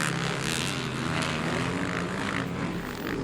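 Motorcycles roar through the second leg of a motocross race series in Lantapan, Bukidnon, a dense, sustained engine drone heard from a distance, rising and falling steadily across the track with no voices.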